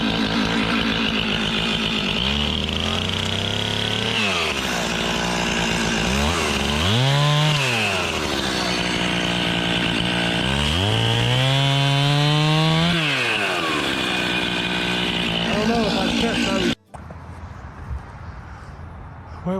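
A chainsaw bucks downed logs after a massive windstorm in southern Kentucky, loud and close, the engine revving up and bogging down through several cuts with rising and falling pitch, then cutting off abruptly to quiet.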